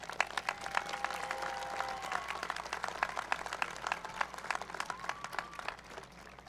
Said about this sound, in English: Let's give our parents and loved ones a round of applause as well.